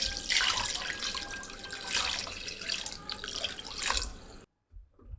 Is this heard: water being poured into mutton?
yes